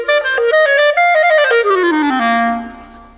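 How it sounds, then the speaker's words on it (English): A clarinet played with its mouthpiece attached gives a clear, full-voiced run of sustained notes, stepping up in pitch and then sliding down to a low held tone before fading, loud and alone. "but when you put it on the clarinet, it sounds kind of like this"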